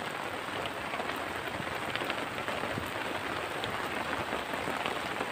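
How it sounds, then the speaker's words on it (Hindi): Rain falling in Rajgir, Bihar, near a hot spring bathing site, a steady close hiss of drops on wet ground and surfaces, even and continuous with small scattered patters and no voices. "राजगीर में बारिश हो रहा है"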